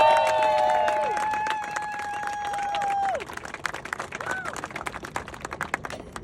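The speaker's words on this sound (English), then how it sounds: "give a nice round of applause for our Executive Vice President, Jules Rudi" At a grand opening ribbon cutting, bright sustained whistle-like tones and sliding sounds give way to a crowd clapping steadily, with brisk irregular claps and some cheering filling the second half.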